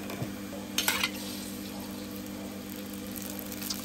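Garlic and marinated pork frying in oil in a pan, giving a steady, soft sizzle with a few brief clinks of stirring near the start.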